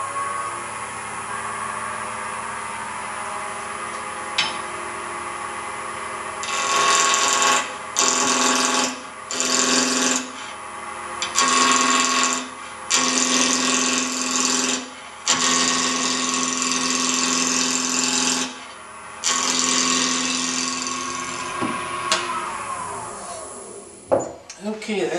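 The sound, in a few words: wood lathe turning a tool handle with a roughing gouge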